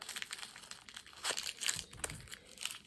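Ribbon handled while making a woodland curl Christmas wreath, giving close, continuous crinkling and rustling with a few sharper crisp rasps, fairly quiet and with no talk.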